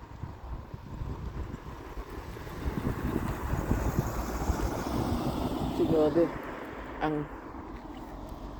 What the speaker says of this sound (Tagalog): mahangin ngayon guys. So, malamig.